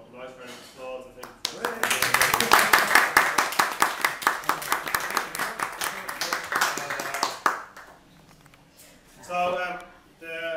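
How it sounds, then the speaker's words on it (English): Clapping from a small audience at an acoustic music night in Sallymills Bakery and Cafe, Limerick's Milk Market, rising after a brief voice into dense close applause that thins and fades, with talk returning at the end. "So a nice round of applause, I think."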